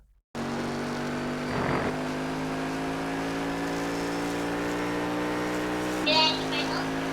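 A Cadillac CTS-V at full throttle on the Watkins Glen circuit, its engine droning loud and steady at high revs from close inside the car, with a brief surge and shift in tone near the end.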